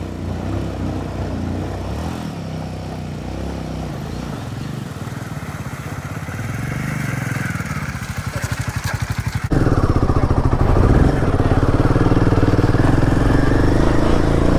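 An adventure motorcycle climbs a rough mountain road on the way to Adi Kailash, its engine thumping close and loud, revving harder partway through amid wind and gravel clatter.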